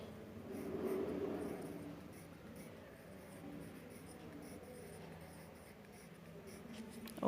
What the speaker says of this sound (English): here you can write in this way